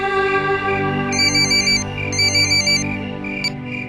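A phone rings for an incoming call, its bright electronic ringtone repeating in clear bursts over a steady background, with no talk.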